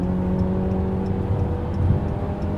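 The 2.4-litre Tiger Shark four-cylinder engine of a 2015 Jeep Cherokee North Edition revs at wide open throttle, a steady droning engine roar with road noise heard from inside the car, unbroken throughout.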